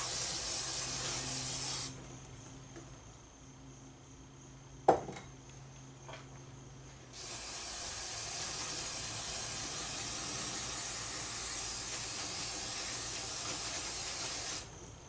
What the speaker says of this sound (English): I am using brake cleaner to clean the belt dust off